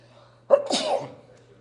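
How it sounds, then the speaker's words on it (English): A single sharp sneeze bursts out close by after a brief quiet moment, loud and sudden, then trails off with a breathy tail. "I'm going to sneeze."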